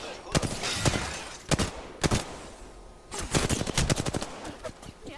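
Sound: gunfire in the video game Batman Arkham Origins

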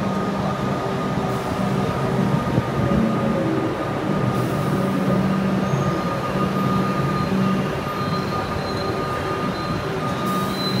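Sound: train slowly arriving at station

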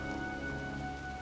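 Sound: rain before a storm in the video game Heavy Rain

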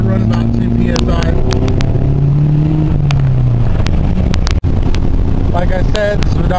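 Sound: 1990 Acura Integra turbo engine revving while driving

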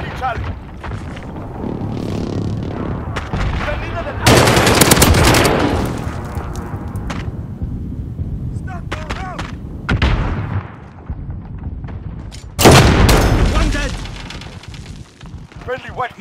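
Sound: precision airstrike explosions in Call of Duty Ground War video game

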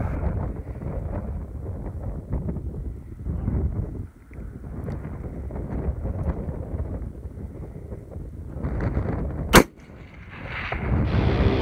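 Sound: long-range rifle shot, .338 Lapua or 6.5 Creedmoor

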